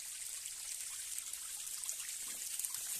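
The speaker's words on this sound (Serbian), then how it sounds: "Lep, visok vodopad" Water from a tall waterfall, about 145 metres high and rich in flow, at Zeleni (lower Bujački) waterfall near Vila Ravni on Fruška Gora; a steady, hissing trickling rush fills the scene without pause.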